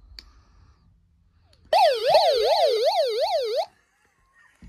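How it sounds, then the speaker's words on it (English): A Kaito emergency weather radio's SOS siren: a loud electronic warble rapidly up and down for about two seconds, then cuts off abruptly, with quiet surroundings before and after. "It makes a siren and the light blinks."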